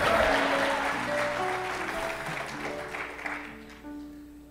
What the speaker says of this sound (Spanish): denle un aplauso si se lo va a dar